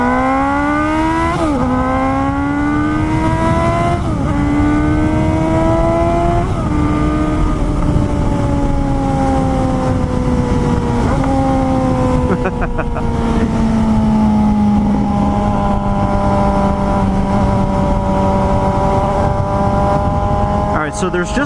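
A 2018 Suzuki GSX-S 750 motorcycle being ridden, its engine loud and close, revving up through several gear changes with rising whines that drop at each shift, then settling into a steadier drone.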